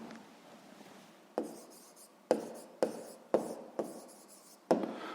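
Pen or chalk strokes writing out a sixth-grade math solution, a series of sharp taps and scratchy strokes at a steady pace, close and fairly quiet with no talking.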